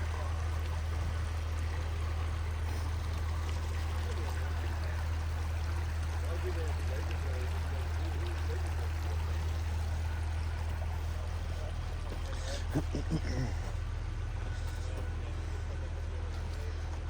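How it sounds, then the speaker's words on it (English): Water pours out of a CAT 308 excavator as a 50-ton rotator lifts it from a large sinkhole, making a steady rushing splash over a constant low engine drone throughout. "Get a little bit of the water out."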